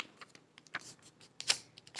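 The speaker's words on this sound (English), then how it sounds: "So look, fold it back." A sheet of paper being folded into a paper airplane gives soft crinkles and sharp rustling snaps, several brief crisp bursts close by in an otherwise quiet room.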